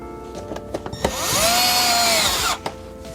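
Power drill driving a Torx screw into a panel of a Lexus LX, preceded by a few clicks and taps, then a rising whine lasting about a second and a half, close and loud, ending with a sharp stop.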